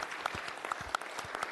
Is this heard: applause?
yes